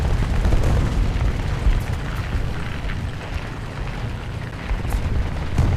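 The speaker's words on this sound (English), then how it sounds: "Critical hit with artillery." Artillery critical hit in War Thunder, a Great War era event match: a dense, continuous rumbling roar of explosions and booming blasts, loud and sustained throughout with a few sharper bursts.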